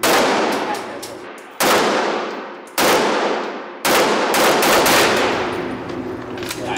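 Tommy gun firing on full auto: several loud, close bursts of rapid gunfire, each cutting in sharply and ringing on with dense rattling reports and metallic clatter, the last burst running longest.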